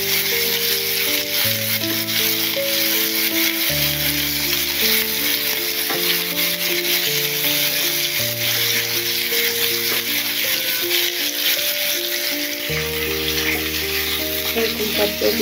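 Rui fish sizzles steadily in hot oil in a pan, a loud continuous crackle with occasional stirring, while background music plays throughout.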